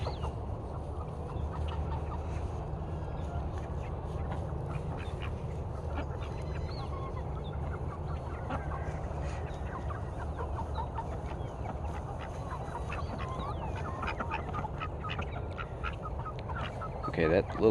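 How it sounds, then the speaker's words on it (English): A female duck quacks steadily amid a busy mix of poultry sounds in a pasture in Phoenix, Arizona, with chickens clucking alongside and a louder burst near the end. "So there's the female duck quacking"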